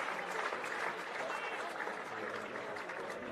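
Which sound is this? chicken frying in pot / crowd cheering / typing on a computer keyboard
crowd cheering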